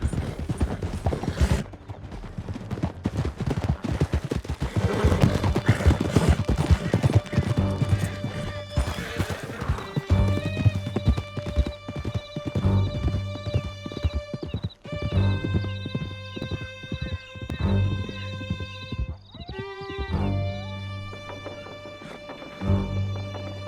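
Horses gallop with steady clip-clop hoofbeats and occasional whinnies in the Red Dead Redemption 2 game, the Epilogue chase toward the end of a canyon. Loud and continuous over a music score, with no talking.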